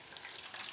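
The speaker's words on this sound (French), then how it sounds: "Là, ce sont des beignets de fleurs de courgettes." Zucchini flower fritters frying in hot oil, a steady dense sizzle that stays even and fairly close throughout the short stretch, with no voices.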